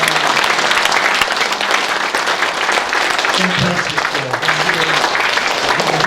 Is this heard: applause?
yes